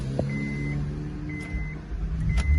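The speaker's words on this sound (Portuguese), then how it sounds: "O carro ligou." A 2007 Honda Pilot started with a freshly cloned flip key: a brief crank near the start, then a steady low idle hum that carries on, with faint beeps over it.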